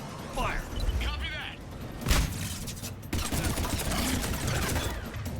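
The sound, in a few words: grenade explosions and gunfire in video game Mass Effect 3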